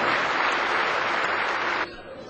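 An audience at a Hindi poetry gathering claps to welcome a poet, a dense burst of applause that cuts off sharply near the end, leaving a quiet room.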